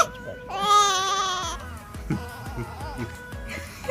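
A newborn baby cries in a recording played back, one drawn-out wailing cry followed by softer whimpers and fussing sounds.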